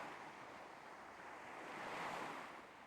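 Ocean surf rolls in as a soft, continuous wash that swells slightly and then eases. The waves are heard alone, gentle and distant.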